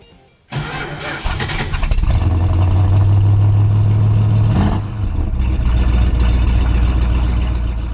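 A Dodge Dart's 318 cubic-inch (5.2-litre) V8 cranks and catches, then rumbles loudly and steadily at idle with a brief rev in the middle, close and alone.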